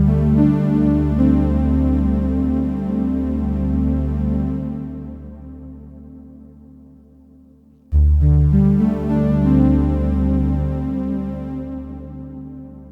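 A Kodamo Mask1 synthesizer plays sustained, harmonically rich tones through a large reverb. One note swells and fades into a long tail before a fresh note strikes in abruptly, loud and alone.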